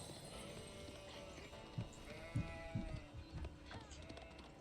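Sheep in the strategy game Age of Empires IV, Rocky River map, bleat in a few short, soft calls over quiet game ambience with faint clip-clop movement.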